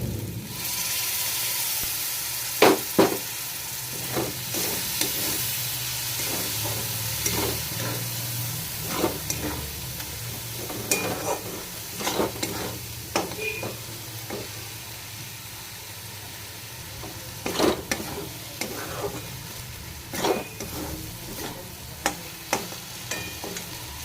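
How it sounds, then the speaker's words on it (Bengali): Ginger, garlic and tomato paste fry in a pan for a chicken curry, a steady close sizzle and hiss broken by irregular scraping knocks of the stirring spoon against the metal. "মশলাটা ভাজা হয়ে গেছে"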